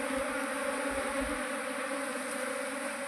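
A honeybee swarm being settled into a box hums steadily, a dense, continuous buzzing of many bees held close and unbroken throughout.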